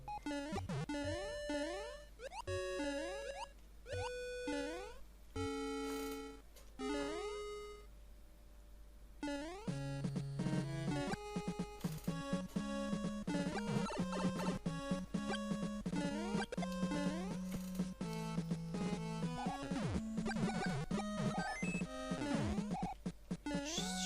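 Chiptune-style Super Mario Bros. 3 background music of bright, beeping square-wave melodies with bouncy, fast-changing notes, quiet and continuous, growing busier after a short pause.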